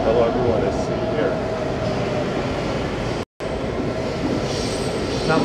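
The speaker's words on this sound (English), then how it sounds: "let's enjoy the subway ride" Steady rumble and rattle of a subway train underway, wheels running on rails with faint squeals, loud and continuous throughout, with a brief cut near the middle.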